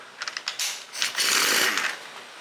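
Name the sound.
impact wrench removing 98cc motor flywheel nut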